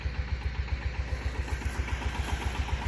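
A Skaut 220V minitractor engine runs with a steady, rapid low thumping pulse while pulling a disc harrow through waist-high weeds, loud and close with no talk.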